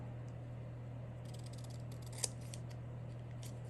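Scissors snip through paper scraps for a small handmade junk journal, a run of faint, quick crisp cuts over a steady low hum, with one sharper snip standing out near the middle.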